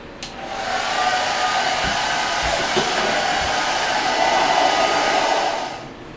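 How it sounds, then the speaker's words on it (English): A hair dryer blows steadily through the whole stretch, a loud, even rushing whoosh with a faint whine on top and a few soft knocks underneath. "So step 4 is the blow dryer. I'm going to blow dry this out."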